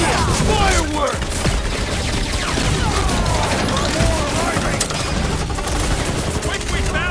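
Fireworks going off in the Guardians of the Galaxy video game, a dense, loud barrage of rapid crackling bursts and booms over about seven seconds, mixed with game sound effects.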